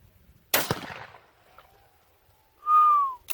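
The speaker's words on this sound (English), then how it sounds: "I heard a bullet go twang" A .444 Marlin rifle shot fired at water jugs: a sharp crack, followed a couple of seconds later by a ricocheting bullet's clear, whistling twang that sweeps downward, both heard outdoors with no talking.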